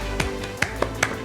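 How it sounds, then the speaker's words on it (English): A few separate hand claps at an uneven pace, crisp and fairly close, with quiet gaps between them. "Clap!"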